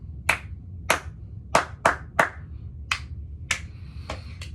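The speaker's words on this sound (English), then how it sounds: "So everyone clap this rhythm for me." A class claps a rhythm together in unison, with crisp sharp claps in an uneven pattern, about eight or nine over a few seconds, separated by quiet gaps.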